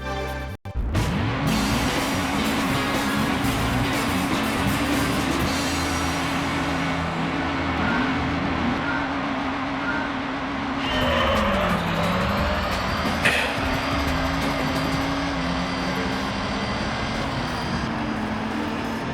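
A Mazda NA Miata engine in Gran Turismo 3 drones steadily as the car accelerates, its pitch rising and briefly dipping around a gear change before climbing again, loud and continuous throughout.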